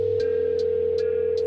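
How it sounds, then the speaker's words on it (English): A steady, continuous telephone tone hums throughout, with short regular beeps repeating roughly every 0.4 seconds over it. "All right, I'm dialing our office."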